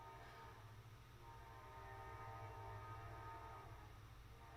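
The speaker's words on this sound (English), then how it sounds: "I'm gonna wait for this train to pass by." A train passes close by in a steady, loud rumble that swells slightly and holds, with a faint horn-like tone near the start and no talking.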